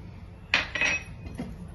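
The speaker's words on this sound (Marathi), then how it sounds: "तर पहिले आपण धणे टाकूया।" Coriander seeds go into a pan for dry roasting for pav bhaji masala: a short burst of dry clinking and rattling, followed by one smaller tick, close and fairly quiet.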